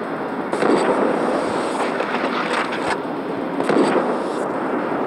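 Rapid bursts of gunfire from the zombie shooter Dead Trigger, played loud and close in a dense crackling stream with slight swells, no talk over it.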